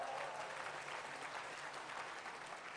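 Steady audience applause fills a large hall at a corporate success academy event, dense and continuous clapping from a big crowd, fairly distant and even in loudness throughout.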